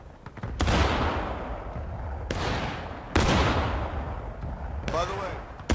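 Repeated musket volleys in the War of Rights video game, each volley a loud, thick burst of many shots fired together, then a rumbling echo, about four volleys at a fairly even pace.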